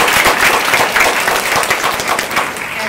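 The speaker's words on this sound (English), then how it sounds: "so let's give them a round of applause" An audience claps for eighth-grade students at a school capstone presentation day, loud and close, with thick, continuous applause that stays steady for the full three seconds.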